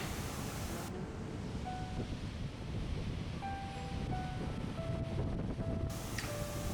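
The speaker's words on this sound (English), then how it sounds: "The wind is really starting to blow now" Wind blowing on the Yachats coast, a steady broad roar of gusts and surf buffeting the microphone, with faint bird calls and no talking.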